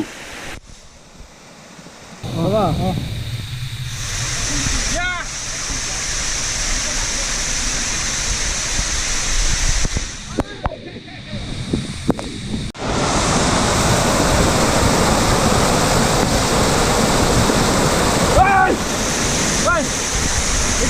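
Water pours down steadily at an outdoor bathing spot, a loud, close, continuous rushing roar. Wind buffets the microphone and people talk over the water at times.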